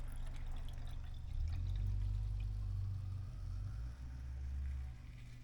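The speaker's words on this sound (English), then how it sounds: "Let's see if I can pour as much as possible in." Maker's Mark whiskey glugs steadily into a bottle, a low, full pouring sound lasting several seconds with no talking.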